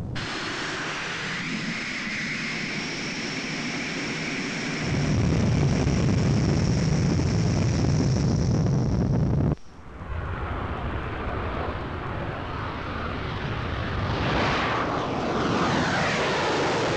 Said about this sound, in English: the aircraft with full fuel tanks must be slowed down with its maximum service weight